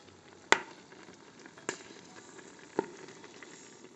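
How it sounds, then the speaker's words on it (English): Cranberries cooking in a hot pan burst with a few sharp, separate pops over a low, quiet simmering sizzle, three distinct cracks spaced out over a few seconds. "the cranberries are starting to pop open. It's kind of a fun sound, kind of like when popcorn starts popping in a hot pan"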